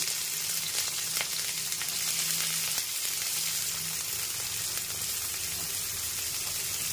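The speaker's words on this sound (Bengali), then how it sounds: "তেলও গরম হয়ে গেছে। এখন আজকে আমরা বরবটি ভাজা করবো শুধু।" Yardlong beans fry in hot oil in a pan, a steady, close crackling sizzle that holds continuously throughout with a faint low hum underneath.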